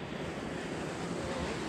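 A river rushes through a mountain valley on the Tour du Mont Blanc between Les Chapieux and Cabane du Combal, a steady, even broadband roar of flowing water, continuous and moderately loud with no voices.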